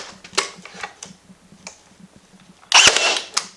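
Pneumatic nail gun on a bathroom renovation: a few light taps and clicks, then one loud, sharp ka-chunk as it fires near the end, close and alone.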